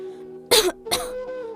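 A person with a bad cough lets out two sharp, close coughs in quick succession, a throaty burst followed by a second, with quiet room sound before and after.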